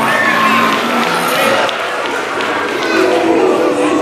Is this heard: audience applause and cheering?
yes